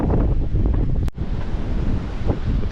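Wind blows hard across the microphone on Clearwater beach in Florida, a loud, constant buffeting roar with surf washing beneath it and one sharp break partway through; no voices.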